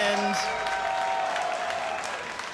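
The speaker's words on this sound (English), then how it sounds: "The crowd loves it." Crowd noise at a robot combat fight night, a dense steady roar of cheering and applause from the audience, loud and sustained throughout with an announcer's voice over the top.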